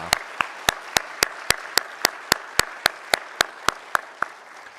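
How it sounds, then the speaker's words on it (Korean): A church congregation at an early-morning Holy Week prayer service claps in blessing, with about twenty evenly spaced, sharp claps in a steady unison rhythm that trail off at the end. "우리 서로를 위해서 또 축복하는 박수로 함께 했으면 좋겠습니다."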